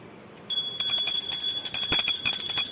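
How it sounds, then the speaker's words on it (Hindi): A small prayer bell rings in a home during a morning Hindu puja to wake the deity Kanha. It sounds loud and close, with rapid repeated strikes that blend into a bright, sustained ringing. "उन्हें उठा देती हूँ घंटी बजाकर।"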